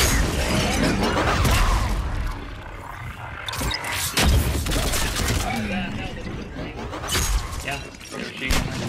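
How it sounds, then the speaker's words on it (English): Machine gun fire rattles through a Mass Effect 3 battle in dense, continuous bursts with a few heavier impacts, and voices talk over the combat. "machine gun."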